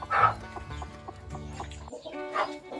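A broody bantam hen sitting on a nest of eggs gives soft, low clucks in a steady run, with a couple of sharper louder calls at the start and near the end, close by.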